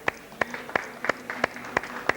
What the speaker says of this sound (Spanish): Quiero un aplauso para ella.